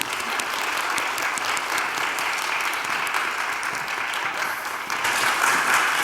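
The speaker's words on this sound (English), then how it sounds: "Please give yourselves a round of applause for doing some hard work today." A live audience at a business talk applauds together, a dense, even wash of clapping that holds steady and swells louder near the end.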